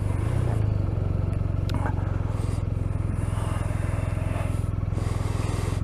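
BMW R 1250 RT motorcycle riding: a steady, throbbing engine drone with heavy rushing wind noise, continuous and close throughout.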